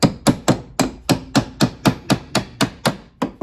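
Hammer blows on wooden shed joints, a steady series of about thirteen sharp, loud knocks at an even rhythm, close by with no talking.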